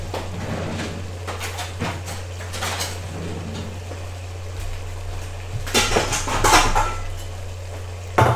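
Spoon and kitchen utensils being rummaged for in a home kitchen while cooking chilli crab, with metallic clinks and clatters scattered over a steady low hum, loudest in a burst of rattling near the end.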